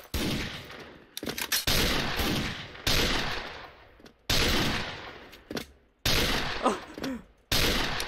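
Loud MSG-90 DMR 2nd Gen sniper rifle shots in the game Special Force, fired while jumping: about six sharp, punchy cracks spaced a second or more apart, each trailing off in a brief echoing decay.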